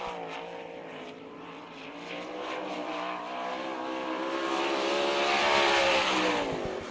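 A sprint race car at the All Star Circuit of Champions Winter Nationals in Gibsonton, Florida, Jim Neer's 00, drones past at speed, its engine note loud and sustained, slowly rising and swelling as it laps the track.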